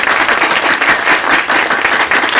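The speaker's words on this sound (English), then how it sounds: "Let's give our dean a round of applause" A lecture audience gives a loud, close round of applause for a dean, with dense steady clapping that pulses slightly in intensity throughout.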